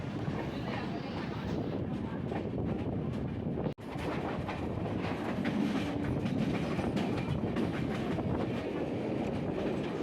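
Constant low rumble and rhythmic rattling of the Jan Shatabdi Express, train 12072, running along the tracks after leaving Kalyan Junction, heard from inside, with a brief cut early on.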